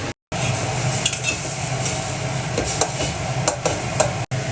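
Hot dal (lentils) being stirred in a pan, a steady scraping and bubbling sizzle with soft utensil knocks against the metal, close and continuous, no talking.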